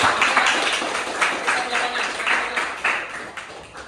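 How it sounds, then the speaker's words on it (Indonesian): Students in a classroom clap together in a brief burst of applause, moderately loud and close, with the claps pulsing unevenly for a few seconds. "tepuk tangan untuk Fialin ya."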